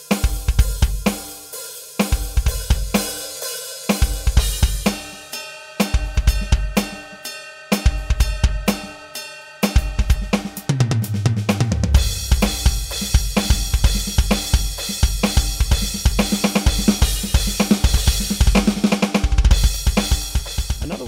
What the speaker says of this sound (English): the one patch that I program that I use probably more than any of the other patches is Lang Rock 1, a real great all-around rock kit